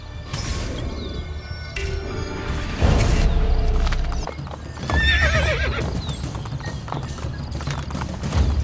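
Hooves clatter loudly as a horse gallops across a bridge in Assassin's Creed Brotherhood, with a whinny, crashes and other game action mixed into the busy scene.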